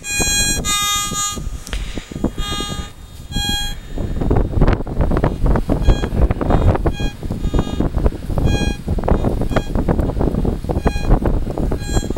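Loud, continuous wind buffeting the microphone of a metal detector, rumbling and gusting throughout with occasional higher tonal whistles, no voices.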